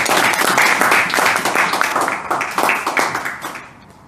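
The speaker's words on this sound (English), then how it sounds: "let's give a big applause to Toastmaster Charmaine." Audience at a Toastmasters club meeting giving a dense, continuous round of applause that holds steady and then tapers off toward the end.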